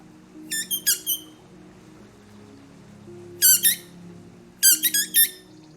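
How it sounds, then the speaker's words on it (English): Squeaky dog toy, a squeaky tennis ball, squeezed in three quick bursts of three or four sharp high squeaks each, clear and close over a faint low hum. "we could give him a squeaky toy"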